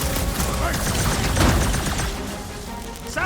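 Gunfire and explosions from a battle in Marvel's Guardians of the Galaxy fill the scene, a dense, rolling barrage with a heavy boom near the middle, under game character voices.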